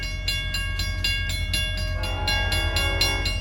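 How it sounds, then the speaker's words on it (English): An LIRR commuter train speeds past a New Hyde Park Road crossing, with a steady roar of wheels and cars and rhythmic clicks. A K5LA multi-tone horn sounds loudly and holds throughout. "with a nice K5 LLA horn to boot."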